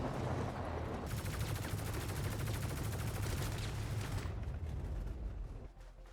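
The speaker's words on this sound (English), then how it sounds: "it does seem like it was still firing actual bullets anyway" A mounted turret in the Star Citizen game fires a sustained rapid burst of bullets, dense and loud for several seconds before trailing off, with no speech.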